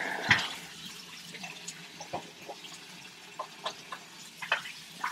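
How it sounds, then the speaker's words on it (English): Tap water runs steadily into a kitchen sink while hands are washed beneath it, with soft splashes and a few sharper drips and clicks scattered across the stream; no voices. "Wash your hands for cleanliness."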